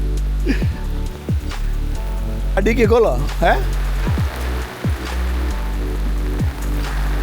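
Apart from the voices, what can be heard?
rain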